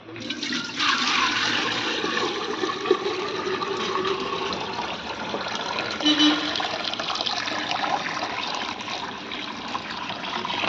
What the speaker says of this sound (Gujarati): બીજું પાણી છે ને આપણે આમાં નાખી દઈએ એટલે થાય બીજું પાણી ગરમ